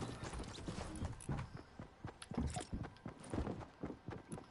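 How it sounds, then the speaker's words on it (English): Many footsteps in an online multiplayer video game, a busy run of quick, overlapping clattering steps throughout, fairly close and steady, with faint talk mixed in. "Dude, I hear so many footsteps."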